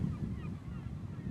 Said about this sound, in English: And it's all birds over there. You can probably hear them.